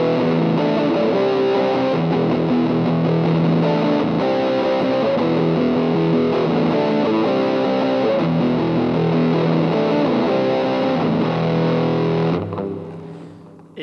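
An electric guitar plays through a Boss DS-2 Turbo Distortion pedal set to 75% distortion. Loud, thick, saturated chords and riffs sustain continuously, then cut off abruptly near the end.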